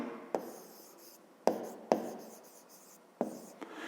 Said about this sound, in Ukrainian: Ну що ж, записуємо тоді